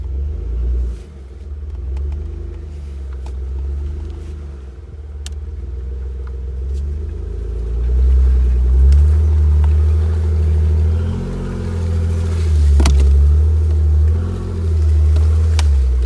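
A Jeep JK Rubicon drives along an off-road trail in four-wheel drive high, its engine rumbling low and loud from inside the cab, rising and easing as it climbs, with occasional knocks and rattles from the rough ground.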